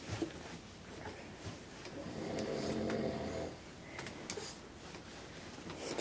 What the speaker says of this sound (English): You hear Daddy snoring?